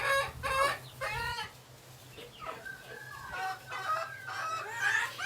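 Chickens cluck on a farm, a run of soft, repeated close clucks and murmurs at a low level with a faint steady hum underneath, and no talking over them.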